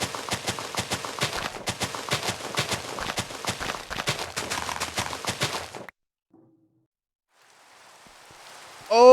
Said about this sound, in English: Oh, look at that! It's raining!